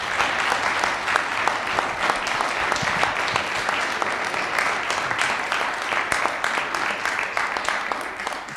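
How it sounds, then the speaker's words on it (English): Sustained audience applause for six panelists at a public event about the Arkansas River, dense steady clapping from a large crowd throughout, fairly loud and even with a few faint voices mixed in. "I think that we owe these 6 people a really big round of applause"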